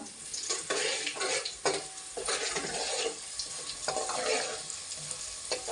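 Fish curry sizzles in oil in a pan, with repeated stirring scrapes over a soft, continuous frying crackle at moderate distance.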